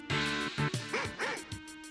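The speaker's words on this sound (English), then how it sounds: "Yeah, there's a dog stuck." A dog in the video game Wolfenstein 3D barks and yips in a quick series of sharp, close, digitized barks over a short stretch.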